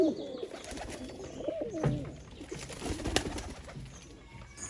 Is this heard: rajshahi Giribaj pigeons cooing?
yes